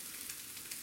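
Omelette with herbs, mushrooms and cheese frying in a pan, a steady close-up sizzle with fine crackling throughout.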